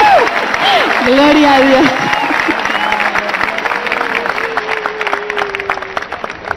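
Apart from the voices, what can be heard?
church crowd applauding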